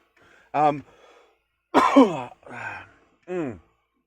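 Several raspy, voiced coughs come in short bursts with pauses between them, close and fairly loud.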